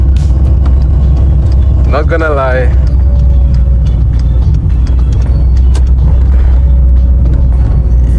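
A VW Citi Golf being driven, with a steady, loud, low engine rumble throughout the cabin and someone speaking briefly over it.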